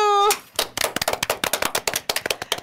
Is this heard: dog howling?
no